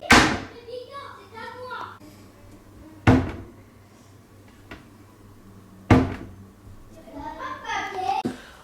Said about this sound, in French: c'est des tampons et ça va amortir le choc quand les portes se ferment